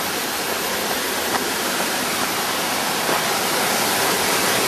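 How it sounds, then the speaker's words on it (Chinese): A waterfall on a mountain hiking trail roars as a steady, dense rush of falling water, loud and constant throughout with no voices. "这是第三个瀑布了"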